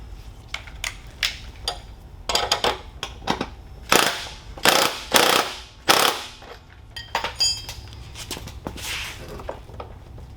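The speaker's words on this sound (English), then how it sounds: "Now we're going to snug it up with our 19 and our 17 mil sockets" A ratchet with 19 and 17 mm sockets snugs up the front wheel on a TrailMaster MB200-2 minibike, giving quick sharp clicking bursts of varying length with small metallic knocks between.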